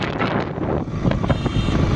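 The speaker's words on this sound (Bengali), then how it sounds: "কি সুন্দর ঠান্ডা ঠান্ডা হাওয়া।" Cool night wind rushes past while riding a motorbike, a continuous loud buffeting roar against the microphone with a low engine rumble underneath.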